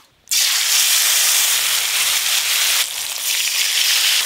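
Ground spice paste hits hot oil in a pan for a fish curry, bursting into a loud, sudden hiss that holds as a dense, steady sizzle, easing slightly and swelling again.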